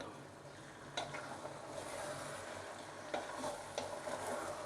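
Mutton yakhni pulao being stirred in a pot: a soft, continuous sizzle with a few sharper scraping knocks of the spoon against the pot, fairly quiet and close, no talking.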